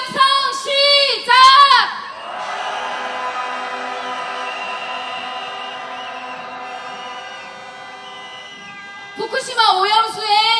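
A crowd at a protest march shouts a chant loudly in bursts at the start, then a long sustained roar of many voices holds and fades before another burst of shouting.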